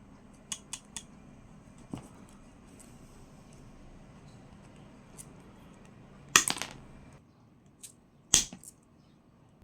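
Klein Tools high-leverage pliers with glow-in-the-dark handles being opened and closed: a few faint clicks, then two sharp metallic snaps a couple of seconds apart, close against a quiet room with no talking.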